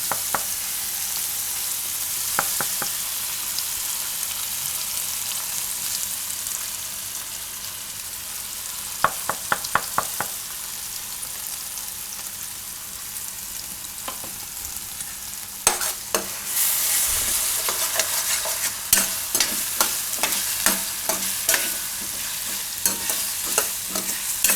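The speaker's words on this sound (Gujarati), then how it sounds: "હવે એમાં નાખી દઉં આપણે આ પેસ્ટ બનાવી આદુ મરચાં ને લસણની." Ginger, chili and garlic paste fries in a pan with a steady sizzle, stirred now and then with scraping clicks and clatter that come in bursts, close and fairly loud.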